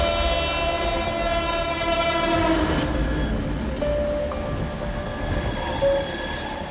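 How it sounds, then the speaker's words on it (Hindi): Mumbai Borivali local train departing Churchgate, a steady low rumble and rattle of rail cars under a long, fading horn, with short whistle-like tones later, continuous and fairly loud without speech. "ठीक 10:05 पर Borivali local train church gate से रवाना होती है।"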